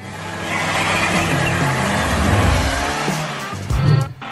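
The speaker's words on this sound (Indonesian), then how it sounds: "Dalam perjalanan yang mengasyikkan dengan mobil barunya." A cartoon car drives along on an exciting trip, its engine droning steadily and loudly throughout, with a brief squeal and rougher burst near the end.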